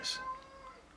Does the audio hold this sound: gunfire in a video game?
no